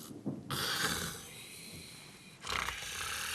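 A countess in a Sesame Street cartoon snores in loud, rasping, growl-like bursts, one short snort followed by a long drawn snore and another starting near the end, close and alone without talk.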